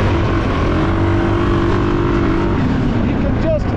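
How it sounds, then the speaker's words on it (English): A Suzuki KingQuad 750 ATV engine runs under load outdoors, a loud steady drone holding near-constant revs with a slight dip toward the end. "You can just hear the difference in the RPMs, how it stays on point."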